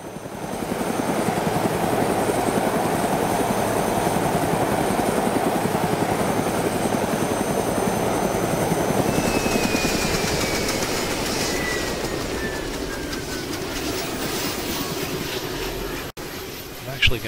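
Helicopter engine in DayZ: a loud, continuous rotor and engine drone with a rapid chopping pulse that holds steady, then thins out near the end, followed by a short thump.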